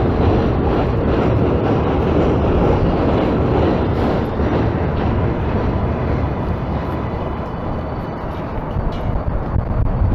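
A loud, steady rumble of a New York City 7 subway train rolling along the tracks near Flushing Meadows, continuous and close throughout, with no voices.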